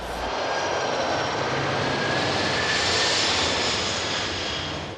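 A Boeing 747 jet airliner roars at full power during takeoff, a loud, steady broadband engine rush with a thin whine on top, swelling slightly at its peak and holding close throughout.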